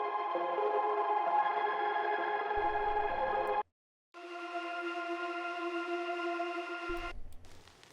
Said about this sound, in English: After the chords, I have these atmospheres.